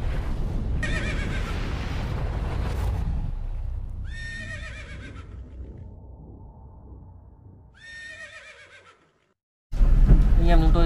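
A white horse of about 450 kg whinnies during a delivery by vehicle near a bridge, its high neighing calls rising over engine rumble and road noise. Talk is heard between the calls, and the sound cuts to silence near the end.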